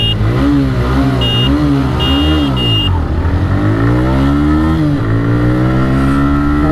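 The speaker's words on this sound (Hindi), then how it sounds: "मैं चला रहा हूँ रेडर 125 और भाई चला रहे हैं पल्सर 125" TVS Raider 125 and Bajaj Pulsar 125 motorcycles in a drag race, engines revving hard through rising gear pulls with shifts, loud and close with steady wind roar, and faint talk underneath.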